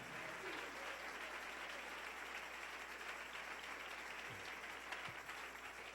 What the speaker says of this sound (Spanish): Dele un aplauso al Señor en esta hermosa mañana